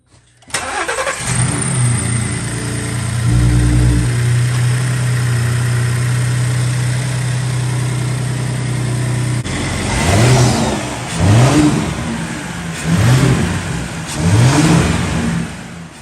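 Gen 3 Ford Raptor engine fitted with aftermarket turbo inlet pipes starts and settles into a loud, steady idle, then revs up in three or four sharp bursts near by, with no talking.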